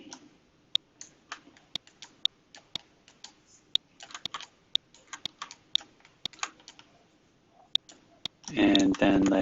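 Mouse clicks and key taps on a computer running 3D software, sharp isolated ticks in an irregular rhythm, close and fairly quiet, ending with a brief burst of louder noise.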